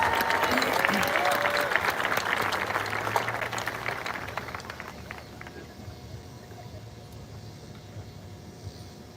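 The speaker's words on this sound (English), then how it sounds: "one more round of applause on winners" A marching band gathering at an ice cream social gives its winners a round of applause, loud and thick at first, then thinning and fading over several seconds into a quieter room.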